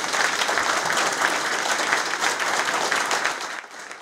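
Sustained, dense applause from a large audience at a military honours ceremony, loud and even for several seconds before tapering off at the close.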